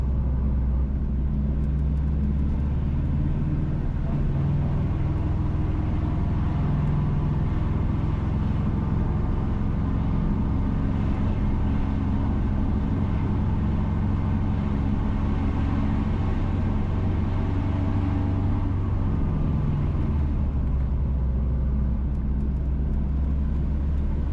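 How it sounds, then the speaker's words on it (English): Car driving along Sligoville Road toward Trentham Park in Saint Catherine, Jamaica: a continuous low engine rumble and road noise from inside the vehicle, steady throughout with slight shifts in pitch. "We are driving on Sligoville Road."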